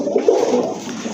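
A Rajgolla pigeon coos on and off, close and fairly loud, in a short continuous low murmur with no voices present.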